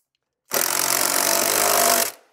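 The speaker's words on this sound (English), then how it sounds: "I'll be using my own tool, put it in and tighten them up" Power tool tightening bolts on a kids' 48V 1000W electric quad bike, a single close, loud buzzing burst about one and a half seconds long that stops abruptly, with silence before and after.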